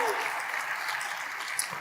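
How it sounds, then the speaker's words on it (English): Brief audience applause at a community equity conference, a soft, steady patter of clapping from a crowd lasting under two seconds. "Give her a round of applause."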